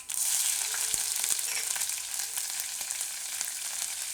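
Cumin seeds and chillies crackle and sizzle steadily in hot oil for raw banana sabudana khichdi, a close, continuous frying hiss with a few soft pops and no talk.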